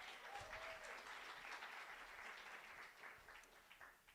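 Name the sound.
audience applause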